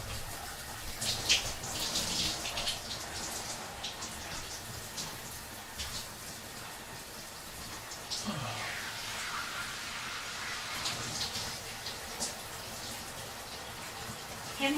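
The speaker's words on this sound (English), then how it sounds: "The water's so loud." Loud running water fills a kitchen or bathroom throughout, steady broadband rushing with a voice talking over it at times.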